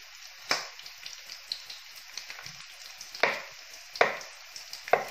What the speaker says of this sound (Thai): ผัดให้หอมมันหอมนิดหน่อยแล้วก็ใส่มันฝรั่งลงไปนะคะ